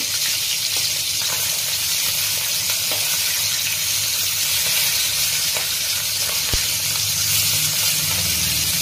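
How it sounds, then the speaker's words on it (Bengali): Fish frying lightly in oil in a kadai as the pieces are turned over, a continuous close sizzle with occasional sharp taps and scrapes of a utensil, no talking. "এবার আমি একটু উল্টে দিচ্ছি মাছে।"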